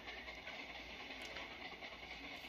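Steam locomotive running fast through a tunnel in the Trainz Simulator 2 video game, a steady loud rumble and hiss with rail clatter continuing without pause.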